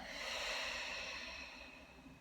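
A slow, deep exhale through the nose during a relaxing breathing exercise for low back pain, a soft airy breath that swells briefly and then fades gradually over about two seconds.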